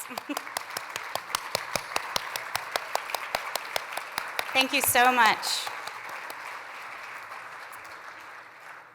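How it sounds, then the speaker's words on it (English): Audience clapping honors board members at a Junior Achievement Business Hall of Fame ceremony, sharp steady claps in a large hall, then a brief spoken thanks over the fading applause. "please stand and let me give you a personal round of applause"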